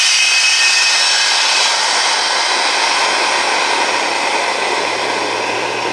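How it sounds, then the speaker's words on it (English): A loud, steady hiss of air rushing out of a vacuum tank as the vacuum is released, broad and continuous for several seconds with no pauses. "now we're going to release the vacuum."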